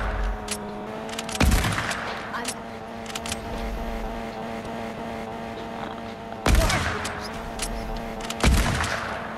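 Gunfire in a car-themed creative-mode video game aimed at another player's car tires, several sharp broadband bursts around two, six and a half and eight and a half seconds over steady engine drone and game noise, with players talking throughout.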